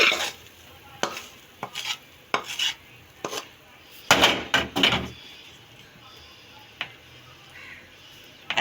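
Semolina sweet is scraped and spooned into an oil-greased dish, with a few scattered clinks and scrapes of utensil on dish and a denser burst of scraping near the middle, close and moderately loud.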